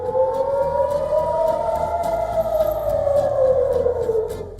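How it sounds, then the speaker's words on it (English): An air raid siren in central Israel wails loud and steady, a sustained howling tone that slowly rises and dips. "Air raid alerts echoed across central Israel"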